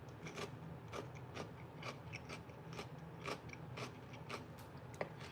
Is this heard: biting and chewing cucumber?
yes